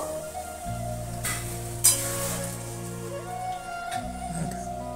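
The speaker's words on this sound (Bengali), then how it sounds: "একটুখানি এইভাবে কষিয়ে নিয়ে একটু ঝোল দেবো" A curry sautés in mustard oil in a pan with a soft, continuous sizzle and occasional stirring scrapes, one sharper knock, and a steady low hum underneath.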